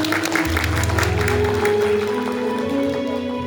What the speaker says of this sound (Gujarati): આપણે એકવાર હરિકૃષ્ણ મહારાજના શ્રી ચરણોમાં બે હાથે જોરદાર તાળીઓથી આપણે પૂજન કરીએ